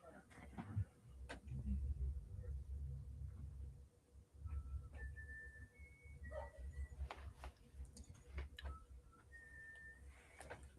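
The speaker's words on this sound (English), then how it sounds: "the whistling is like making the dogs like actually help" Someone whistles a few short, steady tones at a moderate distance to direct sled dogs, over a rumbling, busy background with intermittent voices.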